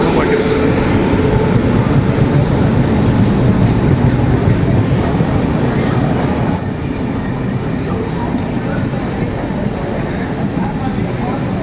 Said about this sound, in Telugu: వస్తుంది బండి.